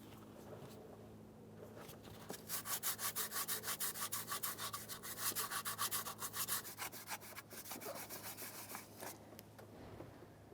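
Sanding a surface by hand during a starter replacement on a 2004-2015 Nissan Titan: rapid, rhythmic back-and-forth rasping strokes, close and steady, beginning after a couple of quiet seconds and slowing near the end.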